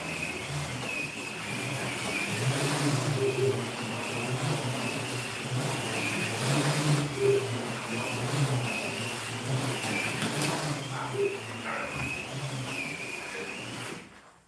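Slot cars race around a track, giving a steady whining motor buzz that rises and falls as they take the curves. The sound runs continuously at moderate level throughout with faint background noise.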